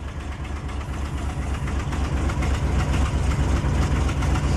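Old junk engine with a damaged exhaust running rough and lugging, a loud, low, throbbing rumble with a rapid pulsing beat that holds steady throughout, with no voices.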